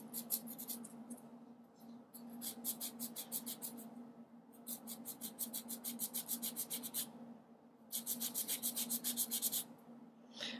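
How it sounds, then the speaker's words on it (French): A nail file rubbing along a fingernail during a marble-effect nail art manicure: quick, rhythmic scratchy strokes in bursts separated by short pauses, close and fairly clear over a low steady hum. "N'ayez pas peur de bien limer fort."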